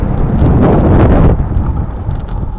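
Strong wind buffets the camera microphone out on the water, a loud rumbling roar that surges and eases in gusts and fills the short stretch with no one talking.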